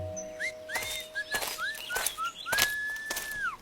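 A person whistles a string of short, rising and falling notes, then holds one long, steady whistle near the end, with scattered clicks and clatter around it.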